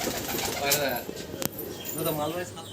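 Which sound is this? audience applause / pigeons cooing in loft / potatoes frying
pigeons cooing in loft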